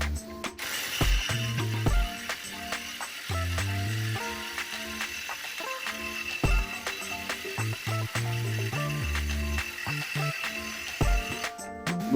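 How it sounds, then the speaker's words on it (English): Ratchet wrench removing the yoke nut from a Ford Fiesta front hub, rapid clicking pawl bursts in repeated strokes with brief pauses, close and clear, no talking. "I would like to go ahead and remove the yoke nut right here"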